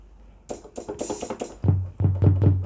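A quick run of bright stock GarageBand bongo hits tuned to F, made on iOS for an afrobeat track, gives way to a few deeper, more resonant strikes, all close and unaccompanied.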